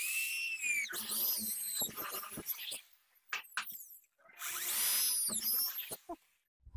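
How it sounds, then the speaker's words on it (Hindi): A power drill with a drill bit bores a hole for a bolt while a wood cutter machine's gauge plate is being fitted, with two long whining bursts separated by a short pause and a few brief clicks. "2 सूत वाले बिट से इसमें हॉल कर देते हैं"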